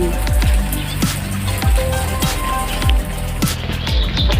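Steady rain falling outdoors, a continuous dense patter with scattered heavier drops hitting a surface nearby, no voices.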